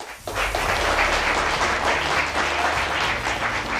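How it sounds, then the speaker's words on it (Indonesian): Studio audience of an Indonesian televised political talk show breaks into applause, a sudden onset followed by a full, even roar of clapping that holds for several seconds. "Tepuk tangan boleh buat BHS."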